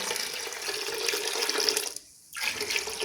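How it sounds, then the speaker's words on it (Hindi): Water gushes steadily into a pressure cooker with chana dal, a loud continuous splashing pour that briefly stops and then resumes. "अब मैंने एक कटोरा इसमें डालूंगी पानी का दाल के मुताबिक"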